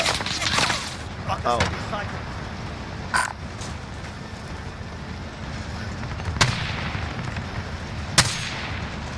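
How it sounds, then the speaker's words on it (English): Gunfire in the video game Call of Duty: Modern Warfare, with a few sharp shots and cracks scattered over a noisy battlefield backdrop, while a voice exclaims briefly. "I'm getting shot at."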